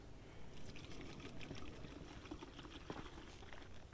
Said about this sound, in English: now we're gonna go on and fill this up with our Max Power car wash soap by Turtle Wax